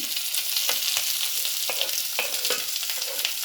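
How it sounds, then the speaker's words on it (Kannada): Mustard seeds, curry leaves, onion and garlic sizzle in hot oil for a potato palya, a close, steady frying hiss peppered with small crackling pops and stirring scrapes. "ಸಾಸಿವೆ ಆವಾಜೆಲ್ಲ ಬರ್ತಾ ಇದೆ ನಿಮಗೆ, ಚಟ ಚಟ ಅಂತ ಹೇಳ್ಬಿಟ್ಟು ನೋಡಿ."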